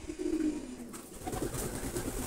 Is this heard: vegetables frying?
no